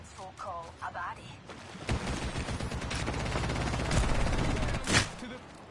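Video game gunfire: a continuous burst of rapid shots with loud cracks near the end, coming in after a brief stretch of talk at the start.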